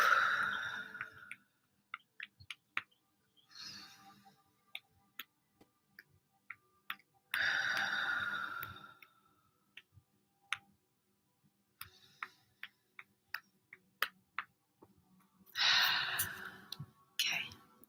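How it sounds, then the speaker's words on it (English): Three slow, deep breaths taken close to the microphone, each a long airy inhale or exhale separated by quiet gaps with faint ticks and small movements between them. "what I'm going to do first is take 3 deep breaths"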